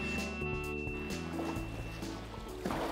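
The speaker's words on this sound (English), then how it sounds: "This rescue boat is on some really rocky waves." Rescue boat riding rough, rocky waves, a steady low wash and rumble of water and hull with faint tonal hum, moderately distant and continuous, no talking.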